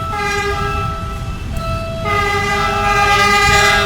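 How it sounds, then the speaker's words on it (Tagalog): A train pulls into a station, sounding a sustained two-tone horn over a low rumble of rolling wheels, the horn growing louder and fuller after a brief shift partway through. "dumating na rin ang hinihintay naming tren. Ayan na siya, parating na."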